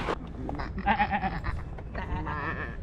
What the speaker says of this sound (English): What does the sheep say?